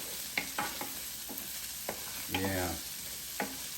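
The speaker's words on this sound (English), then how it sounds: "I'm gonna put my peas in. Just like that, let it cook." Peas drop into hot Spam fried rice frying in a Power XL, giving a faint steady sizzle broken by a few sharp spoon and pan clicks; one short spoken word partway through.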